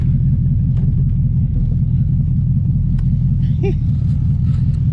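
A Chevrolet Camaro with an LS swap idles loudly and close, its engine a steady deep rumble filling the whole stretch with no breaks.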